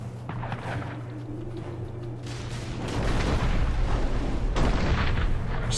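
Enemies shooting in the video game Dungeon Siege 3: a dense, continuous barrage of booming gunfire and rumbling impacts over a low droning hum, growing louder partway through.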